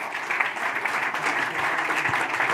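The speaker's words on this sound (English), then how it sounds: "Please, a round of applause for our speakers." A conference audience applauds its speakers at an insurance policy event, steady close clapping from a full room that holds at an even level for a couple of seconds.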